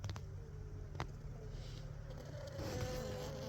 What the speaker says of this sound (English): this is the entrance where the bees coming in and out